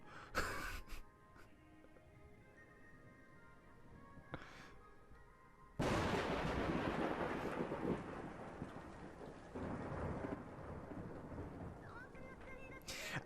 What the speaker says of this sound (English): Why would you hear the rain that way, like that when you're inside?